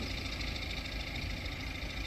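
Diesel engine of a Fuso 10-wheel dump truck hauling soil on a construction site, a steady loud rumbling drone with a knocking edge, close by and continuous, no talk.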